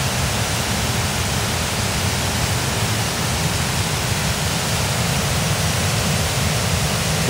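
Roaring water discharge at the Rosia Poieni mine, a constant loud broadband rush with no breaks, heard close and without talk.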